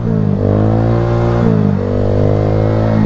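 A 2020 Honda Grom motorcycle engine revving up in two rising pulls, loud and close, with a steady idle rumble between them and no talking.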